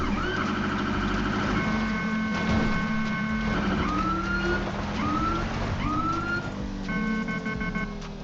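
A police car siren wails in a video game, its rising and falling tones repeating steadily for several seconds, loud and close, with no talk over it.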